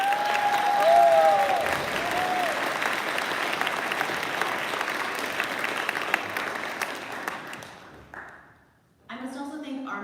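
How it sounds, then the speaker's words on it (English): Applause from the crowd at a 2025 award ceremony, steady, full clapping that holds for about eight seconds and then dies away before a voice starts speaking. "So let's please give everyone one more round of applause."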